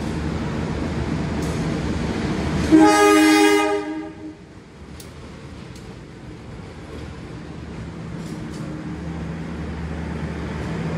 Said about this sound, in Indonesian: Di stasiun Bangil ini ternyata kita kena susul sama kereta api Pandalungan